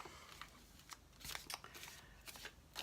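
Quiet, close riffle shuffling of a tarot deck, the cards fluttering and snapping together in a few short bursts.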